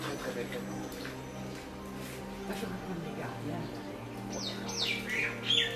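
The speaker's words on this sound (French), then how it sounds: "Les oiseaux" Birds chirping outdoors on the road from Manali to Kullu, bright short tweets and calls rising toward the end over a low vehicle hum, with a person talking throughout.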